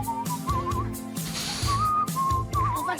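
A person whistles a wavering melody alone, the pitch sliding and trilling across several short phrases over steady background music.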